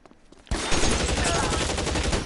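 Gunfire in the L.A. Noire video game during a shootout, a sudden loud burst that opens into sustained dense rapid shooting after a quieter moment.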